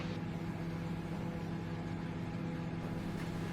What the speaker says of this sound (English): Is that a microwave I hear?